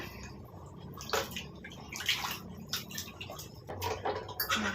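Dishwashing liquid being swished and mixed into water in a container for cleaning silver items, with soft sloshing, splashes and trickling, close and fairly quiet with no talking.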